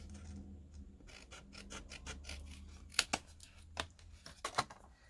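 Scissors snip a word out of paper at close range, a quiet run of small rasping cuts followed by a few sharper clicks of the blades near the end.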